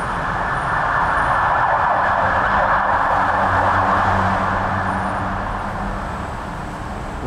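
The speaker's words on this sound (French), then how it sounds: "l'ambulance est passée" An ambulance siren wails steadily and loudly on a Bangkok street near a BTS Skytrain station, holding close and strong for several seconds before easing off slightly as it passes, with traffic rumble underneath.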